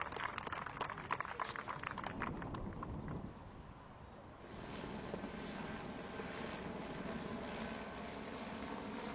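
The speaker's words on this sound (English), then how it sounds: "We have a helicopter landing down between the holes 1 and 18." A helicopter lands on a disc golf course during the 2025 European Disc Golf Festival. Choppy rotor pulses at first give way to a steady, distant engine drone.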